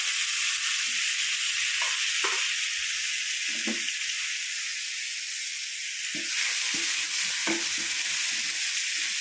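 A steady loud sizzle of paste frying in hot oil fills the whole clip, with occasional soft scrapes of a spoon against the pan.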